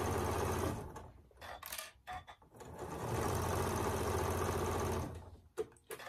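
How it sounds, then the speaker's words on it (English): A sewing machine stitches quilt block pieces in short bursts, its fast rhythmic motor whirring close and clear, stopping briefly and then running steadily again before halting. "I'm just going to sew it down."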